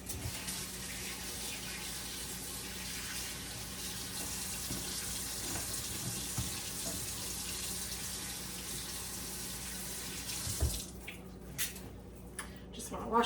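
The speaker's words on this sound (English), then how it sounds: "just want to wash my hands." Hands being washed under a running kitchen tap while making homemade pico de gallo, a steady close stream of water for about ten seconds, then splashing and rubbing sounds before it stops.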